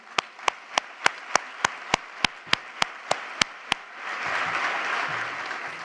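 A single pair of hands claps in an even, steady beat about a dozen times, then a crowd at a city address breaks into sustained applause.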